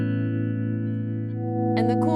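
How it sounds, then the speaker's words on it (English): Electric guitar through a Fender Deluxe Reverb amp on the vibrato channel, one sustained chord ringing steadily and close, with a short burst of talk near the end. "I want you to be able to hear the vibrato within a deluxe reverb."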